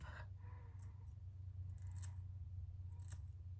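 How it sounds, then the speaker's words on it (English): Scissors snipping hair while trimming bangs, a few quiet close crisp snips spaced about a second apart over a steady low hum. "keep my scissors angled like more this back blade up"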